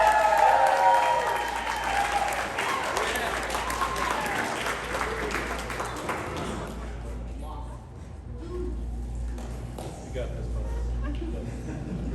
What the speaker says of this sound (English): let's give a big round of applause for Jamie's dad